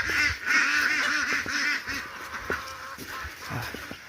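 Domestic ducks honk and quack at their housing in a loud, busy chorus of overlapping calls close by. The chorus is strongest early and thins slightly toward the end.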